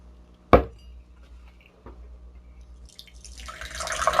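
A can of Coors Banquet beer clacks open into a frosted mug, followed by a softer tap, then the rising fizzy rush of beer pouring and foaming, growing louder toward the end; no talking.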